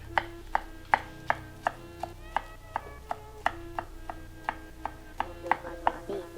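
Garlic cloves minced with a knife on a cutting board, a quick run of about fifteen crisp, evenly spaced chops close up, with no one talking.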